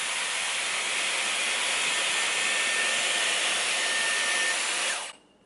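Dyson Airwrap hair styler running on highest heat and suction: a steady, loud, airy whoosh that holds unchanged for about five seconds, then cuts off abruptly.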